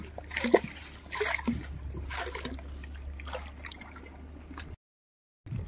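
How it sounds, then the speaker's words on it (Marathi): Rain begins falling onto open water at a crab-catching spot, giving a soft, steady splashing patter over a low background hum before it cuts to brief silence near the end. "पाहू शकता तुम्ही पाण्यामध्ये पाऊस पडू लागला"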